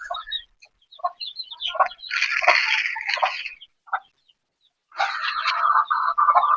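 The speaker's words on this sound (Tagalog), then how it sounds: "ako po yung magpapakain sa mga alaga niyang mga manok." Chickens cluck and squawk at feeding time, close and intermittent bursts of clucking with short pauses between, then a busier stretch of overlapping calls at the end.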